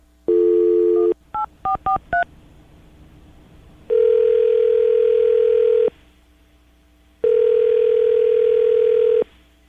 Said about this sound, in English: I'm going to call him right now, get him on the phone